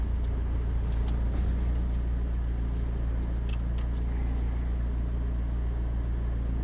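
A McLaren 720S accelerating at full throttle through the gears, heard as a steady, loud, droning engine roar with no clear gear-change breaks.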